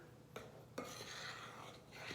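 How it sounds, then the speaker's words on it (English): A spoon scrapes and clinks around a mixing bowl while stirring flour and salt, quiet and close, with two sharper taps against the bowl early on and a soft continuous rasp after. "I'm going to give that a stir."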